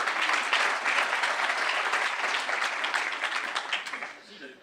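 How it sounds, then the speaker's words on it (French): Audience applause during a French welcome speech: dense, steady clapping from a crowd heard up close, tapering off near the end, with some voices mixed in. "On peut l'applaudir."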